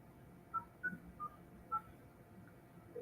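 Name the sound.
telephone dialing tones placing a call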